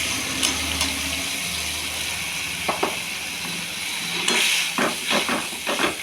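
Spice paste hits a hot pan for a fish curry, giving a steady broadband sizzling hiss throughout, with a few sharp spatters and a louder burst of crackling near the end.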